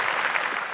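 A French-speaking audience at a Bible memorization contest claps in a short, dense burst of applause.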